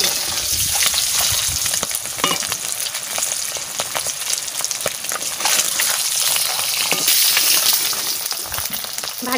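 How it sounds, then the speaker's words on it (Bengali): Eggs frying in hot oil in a pan while cooking fish biryani: loud, continuous sizzling and crackling close up, with sharp spatter pops throughout and no talking. "আমি ডিম ভেজে দিচ্ছি"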